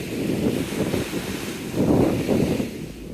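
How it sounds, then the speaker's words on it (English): Wind blows across the seafront at Teignmouth on a cloudy day, a steady rough rumbling buffet against the microphone that swells louder partway through, with no voices. "it's a wind and the conditions are cloudy with a chance of thunder"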